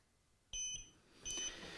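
Two short electronic beep bursts a moment apart from a Pyrodigital FC-A fireworks firing controller prompting for manual fire, bright and tonal against a quiet background, with no talking.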